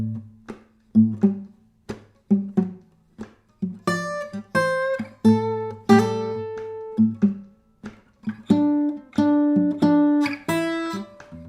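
A slow, sparse plucked bass line for a song arrangement, with short higher melodic licks answering between the low notes. The instrument plays alone, and the notes decay quickly.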